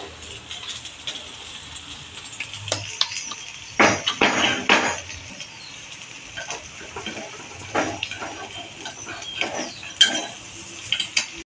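Mixed-dal appe being flipped and turned over in an appe pan, with soft scraping, stirring clicks and a steady sizzle, plus a louder burst of scraping midway and scattered light taps.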